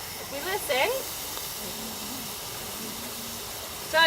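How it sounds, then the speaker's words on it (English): Hot rock dropped into a trough of maple sap, boiling with a steady steam hiss that stays constant throughout, with faint chirping sounds above it and a voice briefly at the end. "so you can hear the boiling."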